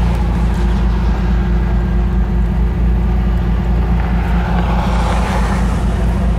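A Ferrari Testarossa convertible kit car idles nearby with a loud, steady, deep engine rumble that holds constant throughout, with no voices.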